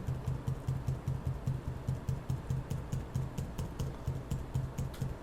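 A computer keyboard's Enter key is pressed over and over while working in Photoshop, giving a quick, even stream of crisp clicks close to the microphone with no talking.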